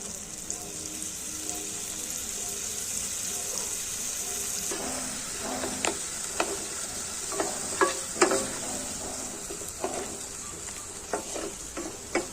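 A paste of ginger, garlic, coriander and cumin frying in oil gives off a steady bright sizzle, then spoon scrapes and clinks cluster in the second half, close by, without talk.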